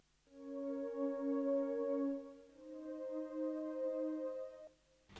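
A warm synth pad played off the beat in an 80s/90s-style synth remix, a sustained chord that swells and then shifts to a second chord, heard alone and close, ending with a brief click.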